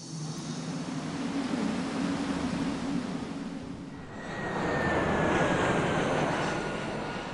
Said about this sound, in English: what should we have this shard needle jet do?